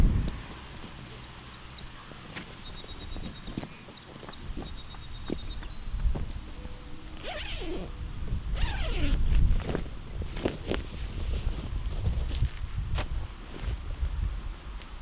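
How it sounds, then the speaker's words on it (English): Zipper being pulled open on the carry bag of a new hot tent for winter camping, rasping close up amid rustling and handling noises, with faint birds in the background. "I want to unzip this"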